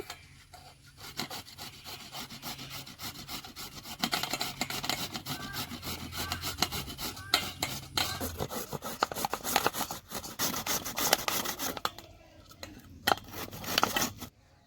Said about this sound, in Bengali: এবার আমি এই যে এইটাতে কচুটা গ্রেট করে নেব